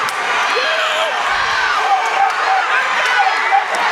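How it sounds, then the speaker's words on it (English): Loud crowd at a high school wrestling match cheers and shouts continuously in a gym, dense roaring noise with whoops and scattered voices throughout. "crowd going crazy at this point"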